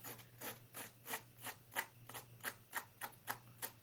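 Faint, regular snips of rubber-cutting scissors cutting through stamp rubber, about two per second, steady and close.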